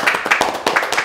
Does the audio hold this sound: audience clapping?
yes